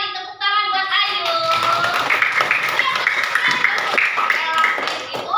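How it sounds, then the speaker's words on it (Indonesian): Primary school pupils in a fourth-grade classroom clap their hands together, a dense close burst of clapping after an answer, mixed with lively children's voices throughout. "Tepuk tangan buat Ayu."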